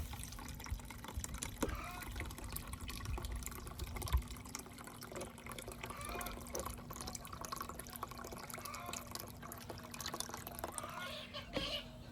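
Collected rainwater pours and splashes steadily into a container nearby, a continuous trickling rush with a faint hum underneath.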